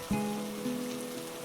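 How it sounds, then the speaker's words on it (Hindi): Steady rain falls outside a poor family's home at night, a faint, even wash of drops with a low hum running beneath it and no talking. "बारिश अभी भी हो रही है।"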